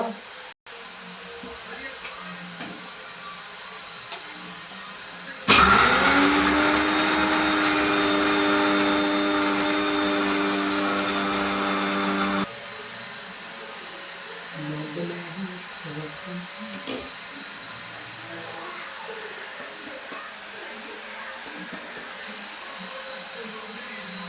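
A kitchen mixer grinder whirs loudly for about seven seconds while grinding dry fruits into a protein powder, a steady close motor roar that starts and stops abruptly, with quieter room sounds before and after.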